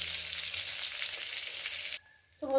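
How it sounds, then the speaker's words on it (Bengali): Eggplant slices sizzle in hot oil in a pan, a steady, moderately loud hiss that cuts off abruptly near the end, followed by a brief musical tone. "আমি বেগুনগুলো ভেজে তুলে নেবো"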